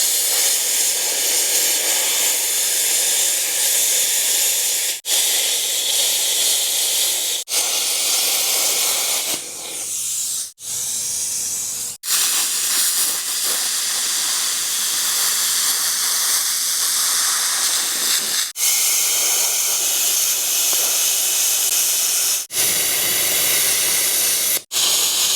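A plasma cutter hisses loud and steady as it cuts off the original bed perches on a 1950s big rig truck frame, with long continuous bursts broken by brief pauses between cuts.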